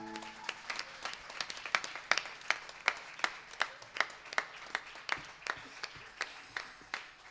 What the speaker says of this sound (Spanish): un fuerte aplauso al Señor esta mañana